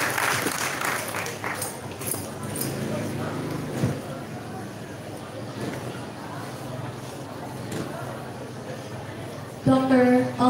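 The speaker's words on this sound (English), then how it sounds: "A round of applause." An audience applauds at a 2019 night high school moving-up ceremony, a steady wash of clapping that runs for about ten seconds with voices mixed in. A brief sustained tone rises near the end.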